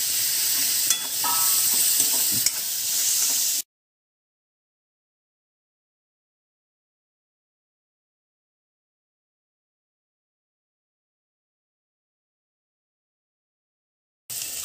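Garlic fries and is stirred in a pan while making soya sukka, a steady close sizzle with scraping for a few seconds, then silence until the sizzle briefly returns at the very end.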